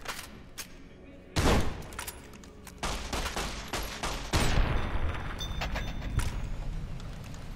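Shotgun blasts in Fallout: New Vegas, several loud, sharp booms spaced a second or two apart over a quieter rumble of clicks and background game noise.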